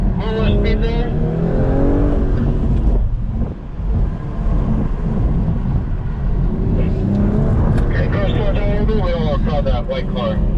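A 2022 BMW M440i xDrive accelerating hard in a mall parking lot, engine roaring and revving continuously with wind buffeting, close and loud, while an instructor talks over it.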